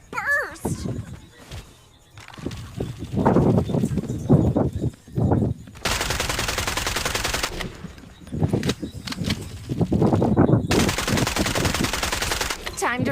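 Automatic gunfire in the video game Farlight 84, long sustained bursts of loud firing broken by short gaps, mixed with game sounds and a person talking between volleys.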